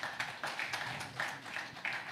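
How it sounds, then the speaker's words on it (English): Audience applause after a talk on deepfakes and securing truth, a steady patter of many hands clapping at moderate distance, fairly quiet and continuous without voices. "And can we give him a round of applause, please?"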